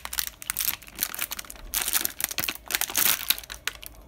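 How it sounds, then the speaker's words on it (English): Plastic retaining clips on a Candy washing machine's replacement circuit board being pressed back into place, giving a run of close, crisp clicks and crinkly plastic snaps in quick irregular bursts. "You should hear click into place, which it is."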